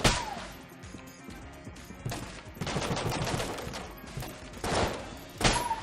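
Rapid bursts of cartoonish gunfire and impact crashes from the Enter the Gungeon video game, loud and dense, coming in several volleys without speech.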